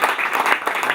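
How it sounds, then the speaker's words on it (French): Audience at a Rotary club collar handover gala evening applauding an honoured member, a brief burst of clapping from a crowd, close and loud. "Je vous prie de l'applaudir"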